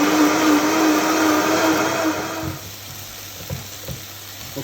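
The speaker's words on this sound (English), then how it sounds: "Now I want this blending at high speed for 3 minutes on a good blender." A loud, steady blender whir on high speed blending tomatoes runs for a couple of seconds, then cuts out, leaving quieter background noise and a few soft clicks.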